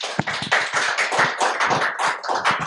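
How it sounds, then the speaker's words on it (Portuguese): Audience applause at a Brazilian literary book launch and panel discussion, a dense crowd of many hands clapping steadily and loudly throughout, with no voices over it. "Palmas para ele."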